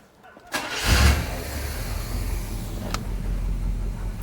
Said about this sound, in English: we have a running engine that's building good oil pressure